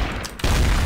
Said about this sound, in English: where did I just get shot from?